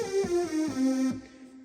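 Club lead preset on a Yamaha Genos 2 keyboard plays a short bright synth melody of a few sustained, buzzy notes with effects, loud and alone, ending in a brief fading tail.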